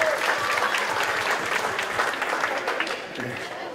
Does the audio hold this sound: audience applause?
yes